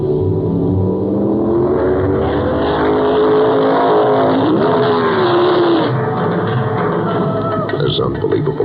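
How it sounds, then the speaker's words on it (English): A Flaming Fire Red 1972 Ferrari Dino 246 GT Pininfarina drives along, its engine a steady, loud, close drone that rises briefly in pitch midway, with voices talking over it. "prize package number 158 is a brand new 1972 Flaming Fire Red 246 GT Pininfarina Dino Ferrari"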